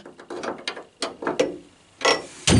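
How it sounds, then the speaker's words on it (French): A ratchet wrench tightens a 12 mm nut on a car pedal assembly, giving several close, loud bursts of rapid clicking strokes separated by short pauses. "Je bloque l'écrou de 12"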